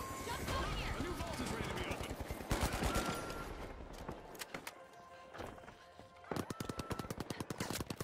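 Turrets fire in a fast rattling burst in The Finals ranked gameplay. The shots come in dense automatic volleys that pause briefly and start again, loud and close, mixed with other game effects and spoken commentary.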